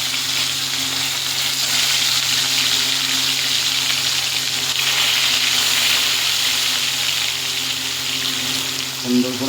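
Turmeric-coated catla fish pieces fry in hot mustard oil in a pan, giving a loud, dense, steady sizzle that continues unbroken for the whole stretch, with no voices over it.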